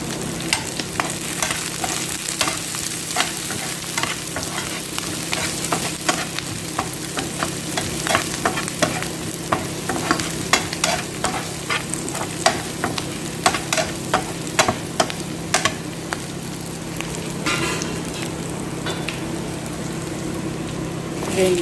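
Garlic stir-frying in a hot pan for a chicken dish, a steady close sizzle with rhythmic scraping stirs throughout and a brief spoken word at the start.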